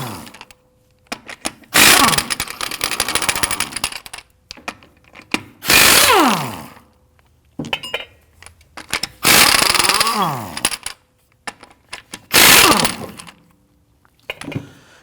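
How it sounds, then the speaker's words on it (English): A power tool with a 19 mm socket on a 2013–2019 Ford Interceptor Utility wheel buzzes in four loud, long bursts, each winding down in pitch, with clanks and short rattles between them as the lug nuts come off. "go ahead, loosen and remove the lug nuts."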